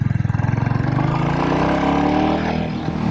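A Royal Enfield Bullet 350 single-cylinder motorcycle runs while being ridden, its loud, close engine thumping in a steady pulse that smooths into a continuous drone as the bike leans through a tight turn.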